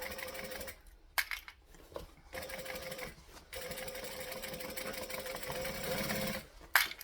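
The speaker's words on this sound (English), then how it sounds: "So stitching along, we're pulling the other piece" Sewing machine stitching slippery fabric pieces for a bag, a steady mechanical whir running almost continuously with brief pauses between bursts of stitching, close and moderately loud.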